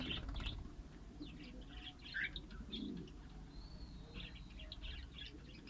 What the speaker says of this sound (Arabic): نوريكم عصفور الدوري